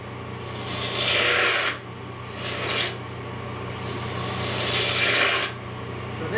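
A 3/4 inch gouge roughs out a wooden chair leg on a spinning lathe, a loud, hissing rasp that comes in repeated strokes with short dips between them, over a steady motor hum.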